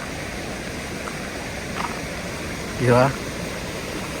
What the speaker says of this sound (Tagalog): Tapos ito yung batis.